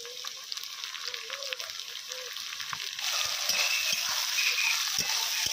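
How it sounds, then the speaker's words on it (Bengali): Onions and chopped tomato fry in a pan with bay leaves and cumin, a bright crackling sizzle that grows louder and denser partway through as the tomato goes in, close and steady with no talk. "পেঁয়াজগুলো হালকা ভাজা হয়ে এসেছে, এবার টমেটো কুচি দিয়ে দেবো।"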